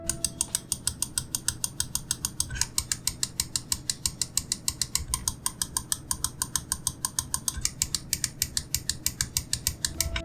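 The rubber-coated scroll wheel of a Machenike M830 wireless mouse rolling steadily, heard as a continuous, evenly spaced ratcheting tick at close range, alone with no voices.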